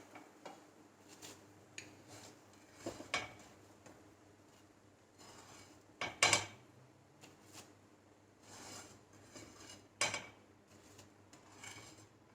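Banana cutlets being moved onto plates, with scattered light clinks and scrapes of utensil against dishware, a few sharper knocks standing out over quiet room tone.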